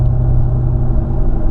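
A Ford F-150 5.0L pickup with a Roush exhaust drones in a steady, loud, low rumble that holds constant and has no distinct revs.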